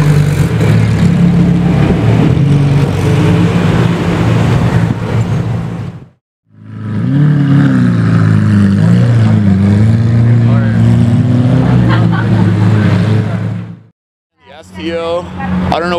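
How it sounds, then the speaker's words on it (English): A Lamborghini Aventador SV fitted with a stock Lamborghini race exhaust revs loudly in two long roaring bursts with a short break between them, and people talk over the engine noise. "The SV's got race exhaust, stock Lamborghini race exhaust."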